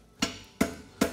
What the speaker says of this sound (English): I take the end of my hammer and just fold the edge of the concave over the center